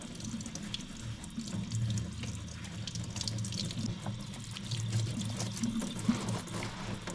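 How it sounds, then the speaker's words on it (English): Tap water runs steadily into a kitchen sink while hiking boots are wetted under the stream, a close, continuous splashing flow with no talking. "The next step is to wet the shoes. So I'm just doing this in my kitchen sink."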